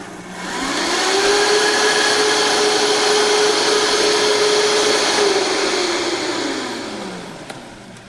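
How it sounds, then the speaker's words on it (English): A blender whirs up and runs loud and steady for several seconds while it purees quartered vegetables for a dressing, then winds down, with no voices over it. "I'm just going to kind of quarter it and throw it in my blender, just like this"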